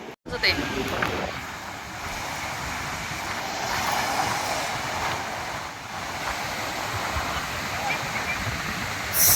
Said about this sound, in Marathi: किती पाणी वाजत आहे